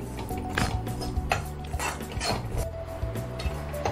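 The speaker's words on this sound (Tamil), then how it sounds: "நல்லா சிம்மில் வச்சு நல்ல ஒரு 10 நிமிஷத்துக்கு ரவையை நீங்கள் நல்லா வறுத்து எடுத்துக்கோங்க." Semolina being slow-roasted in a pan on low heat for rava laddu, with steady scraping and stirring of a spoon against the metal pan and occasional light clinks, soft and close.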